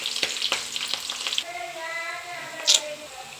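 Onions sizzle in hot oil in a tempering for curd rice, a close crackling fry with stirring clinks at first, then a quieter steady sizzle with a brief sharp burst of spatter near the end.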